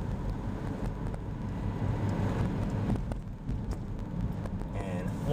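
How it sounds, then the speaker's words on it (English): A 2007 Honda CR-V driving over bumps on rough back roads, heard from inside as a constant loud low road rumble and wind roar with occasional thumps, with no clear speech. "just so you can hear how the car does over bumps and a little bit rougher road"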